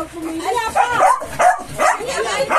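A dog gives a few short yips and barks close by in a home during a family gift exchange, mixed with overlapping family voices and chatter.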